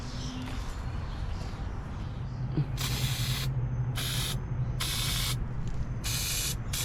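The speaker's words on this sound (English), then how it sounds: "a little PB blaster should do the trick. This stuff works absolute wonders on stuck bolts" Four bursts of PB Blaster penetrating oil hiss from an aerosol can onto stuck hub bolts on a boat trailer, each spray lasting under a second with short gaps, close and loud over a steady low outdoor rumble.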